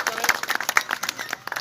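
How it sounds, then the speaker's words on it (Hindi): Crowd applause welcoming a chairman at a political gathering, a rapid burst of many hands clapping close by with voices faintly mixed in. "जोरदार ताली से उनका स्वागत करें।"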